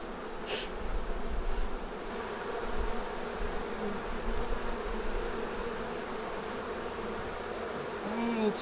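Honeybees swarm around an open hive during an inspection, making a continuous, dense, moderately quiet buzzing drone that stays steady throughout.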